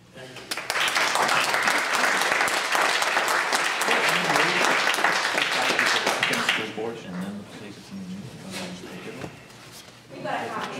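An audience at a New Jersey panel on school budget reporting breaks into loud, sustained applause after a speaker finishes, the clapping fading into quieter scattered claps and low chatter.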